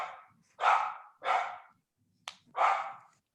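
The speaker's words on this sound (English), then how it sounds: "That is my dog" A dog barks about four times in a slow, uneven series, each bark sharp and fairly near against an otherwise quiet room.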